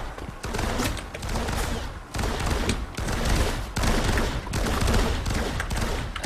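A gun turret in the video game Firefall fires steady sustained bursts, loud and close, broken by brief pauses between volleys.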